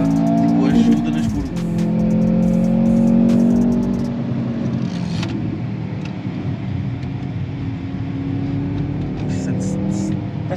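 An automatic Mercedes with rear-wheel steering drives hard around the Algarve International Circuit, its engine droning loud and close with rising and falling revs, while people talk over it throughout.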